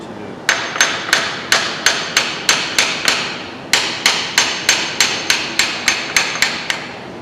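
Hammer tapping on the distributor of a John Deere engine during a teardown, about twenty sharp metallic taps in an even rhythm with one brief pause, close and loud.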